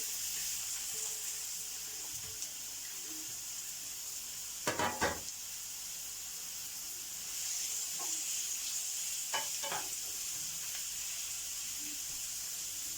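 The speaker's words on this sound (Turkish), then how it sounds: "güzel soğanım kavrulsun." Steady sizzling of onions sautéing in oil, a continuous hiss with a few brief clinks of stirring.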